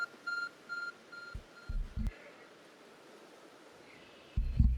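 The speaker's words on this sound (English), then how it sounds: "There's a glowing, beeping object over there." Beeping object in Pokemon Legends Arceus, a short series of thin, evenly spaced electronic beeps, faint and repeating at the start, with low thumps of game sound breaking in.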